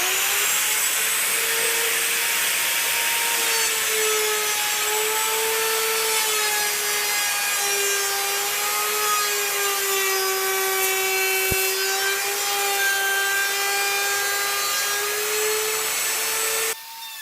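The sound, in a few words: router cutting out a sink template in wood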